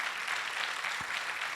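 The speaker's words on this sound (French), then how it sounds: "Et maintenant, applaudissements pour accueillir les jurés qui vont nous rejoindre" Applause from a seated audience welcoming jurors to a business showcase event, a steady wash of many hands clapping at moderate level throughout, with no voices rising above it.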